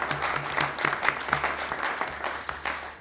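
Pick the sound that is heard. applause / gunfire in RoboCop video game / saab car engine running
applause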